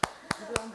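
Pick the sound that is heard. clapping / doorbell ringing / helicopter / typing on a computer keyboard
clapping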